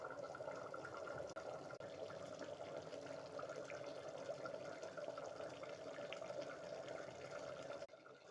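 Green gram curry (pachai payaru kulambu) bubbles in a pot, a faint, steady watery burble with a few soft clicks and no voices.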